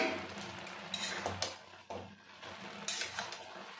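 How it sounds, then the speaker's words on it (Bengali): A metal lid lifted off a pot of taro greens boiling in salted water, with a few quiet clinks and scraping clatters, close but soft, no voices. "ঢাকনাটা তুলে নেব।"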